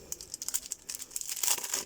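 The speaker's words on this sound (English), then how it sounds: "they're in these plastic bags, and these bags drive me insane" Plastic storage bags holding rubber stamps crinkle and rustle steadily up close, soft and continuous, with no talking over them.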